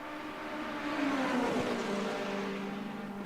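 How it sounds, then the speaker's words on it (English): Hypercar engines in a multi-class racing sim at Spa drone steadily at high pitch, with a rising and falling pitch sweep as one car passes close, loud and continuous throughout. "Here we go, a hypercar battle."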